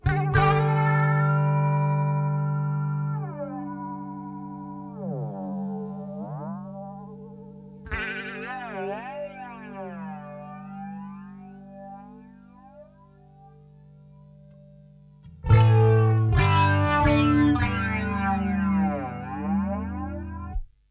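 Boss BF-2 flanger pedal placed ahead of distortion, giving a sweeping jet-like whoosh over sustained distorted guitar chords; several struck chords ring out loud and alone, each swept by the rising and falling flange.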